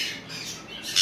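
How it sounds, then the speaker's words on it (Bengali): A Zambia conure parrot gives loud, harsh squawks close by, a shrill call early on and a stronger, brighter squawk at the end. "আর এখন আপনাদেরকে দেখাবো জাম্বিয়া কুনুর"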